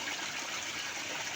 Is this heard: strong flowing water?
yes